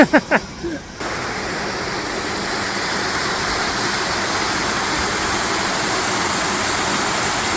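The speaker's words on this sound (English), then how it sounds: "It gets loud here because the waterfall is pretty substantial." A substantial waterfall at Sweet Arrow Lake roars as a loud, steady, close rush of water that fills the scene after a few brief knocks at the start and then holds constant to the end.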